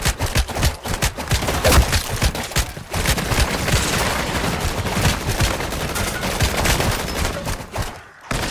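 Gunfire in Modern Warfare 3's zombies mode: dense, continuous bursts of rapid automatic shots with overlapping cracks and impacts, loud and close throughout with only a couple of brief pauses.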